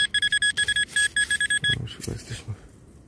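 Repeated high-pitched electronic beeps from a metal detector on a beach, signalling a buried nail, pulsing steadily for a couple of seconds before stopping, followed by soft rustling and low noise.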